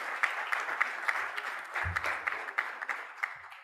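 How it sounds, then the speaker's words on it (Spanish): Audience applause for swimmer Eileen Coparropa at a sports forum in Panama, a steady patter of many hands clapping with a few crisp individual claps standing out, sustained at moderate volume. "Vamos a darle el aplauso."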